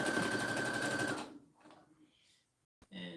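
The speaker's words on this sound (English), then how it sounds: "And just sew it down." A sewing machine runs steadily as it stitches down the fabric edge of a handmade tissue holder, then stops, followed by quiet handling noises and a brief thump.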